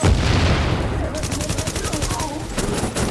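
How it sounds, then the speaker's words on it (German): In the video game Tom Clancy's The Division, a loud rapid series of explosions pops like fireworks, with rhythmic cracking bursts and a voice briefly heard. "Der explodiert, die explodieren jetzt!"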